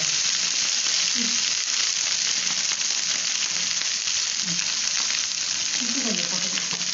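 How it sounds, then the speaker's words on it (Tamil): Okra (ladies finger) frying in a pan over medium flame gives a continuous, fairly loud sizzle, with a few faint clinks and scrapes and brief low murmurs in the background. "கொஞ்சம் மீடியம் ஃப்ளேமில் வச்சு நம்ம வந்து ஃப்ரை பண்ணுவோம்"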